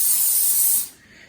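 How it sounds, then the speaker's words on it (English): Pam cooking spray hisses in one steady burst onto cake pans, close and loud for about a second before cutting off into quiet. "So she has sprayed 3 pans with cake mix with Pam."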